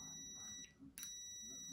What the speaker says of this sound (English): So set your meter to continuity buzzing,